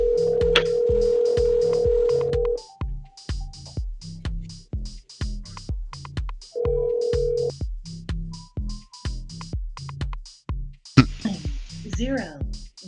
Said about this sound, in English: Like if you dial 901, that should be successful.